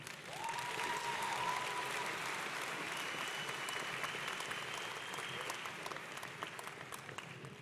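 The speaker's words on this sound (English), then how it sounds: "let's have a round of applause for these graduates" Sustained audience applause for graduates at a university commencement ceremony, steady dense clapping that holds throughout and slowly tapers, with no voices over it.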